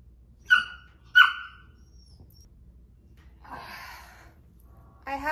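A young dog gives two sharp, close barks in quick succession, followed by soft rustling and a brief scuffle of noise near the end.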